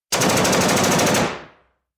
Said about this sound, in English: I'm gonna insert some gunshots here